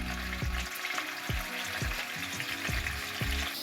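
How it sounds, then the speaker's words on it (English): Onions frying in a pan as the base for a tin fish chutney, a steady broadband sizzle with soft stirring knocks recurring about every half second, close and fairly loud, no voices. "Just let that fry till it gets a bit brown."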